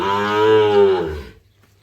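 A single short moo from a Sahiwal bull calf, close and clear, lasting about a second before falling silent.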